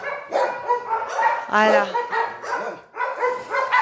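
Dogs at the pound bark and yip repeatedly in close, overlapping bursts, with a person speaking briefly among them.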